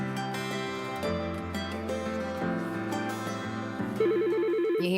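A legacy office telephone ringing in a radio advertisement, with repeated electronic rings and tones stacked over a musical backing, then a warbling trill toward the end, loud and alone with no talk.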